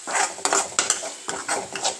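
A utensil stirs salt and turmeric through hot oil for a drumstick fry. The scrapes and taps against the pan come close and irregular over a faint sizzle, with no one talking.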